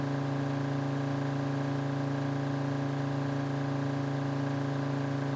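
A Citroen diesel engine runs steadily in Drive Beyond Horizons, its low, even drone holding at a constant pitch throughout with no revving, heard alone and close.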